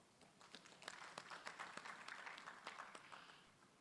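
A convention audience claps steadily for several seconds, a dense patter of many hands with a few sharper individual claps standing out.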